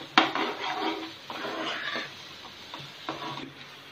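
Palkova milk sweet is stirred in a pan, giving repeated scraping and knocking strokes of the spoon against the metal, close and moderately loud, with no talk.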